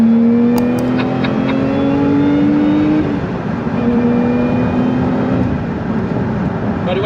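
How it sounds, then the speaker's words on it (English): A Lotus Emira sports car in sports mode drives steadily, its engine drone close and continuous with a slight shift in pitch partway through; no talking. "let you just enjoy some of the driving on this sublime Lotus"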